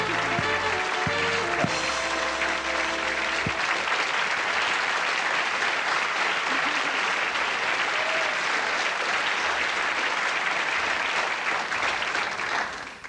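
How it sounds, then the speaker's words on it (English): A TV studio audience at a 1988 BBC chat show bursts into loud, sustained applause, dense and even throughout; a short musical sting plays at the start before the clapping carries on alone. "That's the best applauding audience I think we've ever had"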